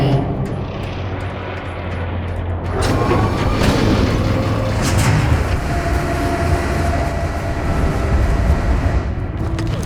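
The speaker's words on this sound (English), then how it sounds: "Heavy cargo tram is docked and ready." Heavy cargo tram in Lost Planet 3 moving along its track, a loud low rumbling roar that swells after a few seconds with clanking and rattling, steady and close throughout.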